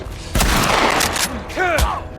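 Gunshots from The Last of Us video game, including shotgun blasts, boom out in a few loud, sharp bursts over a busy in-game battle mix with shouting voices.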